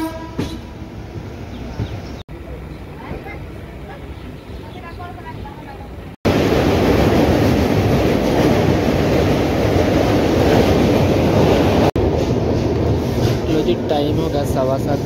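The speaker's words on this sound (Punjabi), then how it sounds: "5:55 'ਤੇ ਚੱਲ ਚੁੱਕੀ ਆ ਅਤੇ ਅੱਜ ਦਾ ਦਿਨ ਤਾਂ ਪੂਰਾ ਟ੍ਰੇਨ 'ਚ ਨਿਕਲੂਗਾ" An Amritsar to Patna Sahib passenger train rumbles along with a loud, steady roar of wheels on rails that swells sharply midway, heard from inside a carriage with occasional clatter and a voice talking over it.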